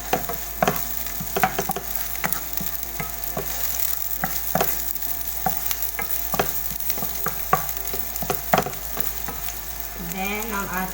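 Garlic frying in a pan while cooking lumpiang hubad, a steady sizzle with scattered clinks and stirring scrapes, close and continuous throughout, no talking.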